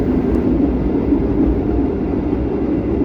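Steady low rumble from inside a passenger train heading to Ketapang, Banyuwangi, a continuous loud drone with no voices, running evenly throughout.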